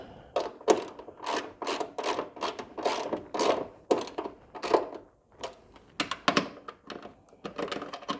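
Small fasteners being tightened while an ABS unit is installed on a vehicle, a close series of irregular clicking ratchet-like taps and metallic ticks in quick bursts with short pauses, no talking.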